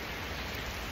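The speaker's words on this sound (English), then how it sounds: "So it's raining." Steady rain falling, a dense, even hiss of drops with no pauses, close and moderately loud, with no voices.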